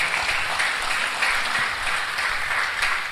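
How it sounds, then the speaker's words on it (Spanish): A church congregation at a Sunday evangelistic service bursts into sustained, dense applause, a steady crowd clapping that fills the space without speech over it. "Denle un aplauso al Rey de Reyes."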